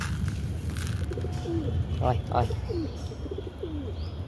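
Pigeons coo in short, low warbling calls over a steady hiss of rain, while a person calls out to the birds in between.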